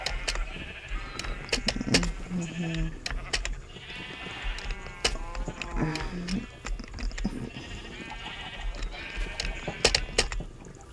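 Several video game sheep bleat repeatedly, some near and some further off, over faint clicking and background sounds, with no one speaking.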